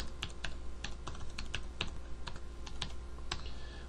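Steady typing on a computer keyboard, a quick sequence of sharp, close keystrokes over a faint background hum.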